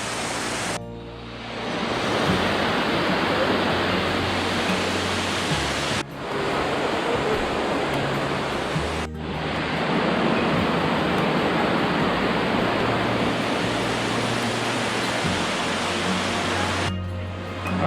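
Helton Creek Falls in North Georgia, a large lower waterfall running with heavy flow, roars as a loud, steady broadband rush of falling water that fills the whole stretch, with brief dips in level but no pause.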